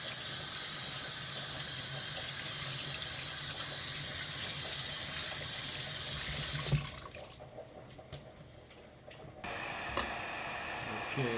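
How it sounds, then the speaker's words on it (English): Water runs steadily from a tap over fish being washed in a sink for a Jamaican steamed fish dish, a loud continuous stream that cuts off abruptly, leaving quiet handling sounds and a faint trickle. "make sure I wash my fish with vinegar and lime"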